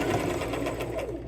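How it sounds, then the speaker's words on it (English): A sewing machine runs steadily while stitching down a seam on a vest, a close, continuous whirring hum with no pauses across the short stretch. "so then I'm sewing it down"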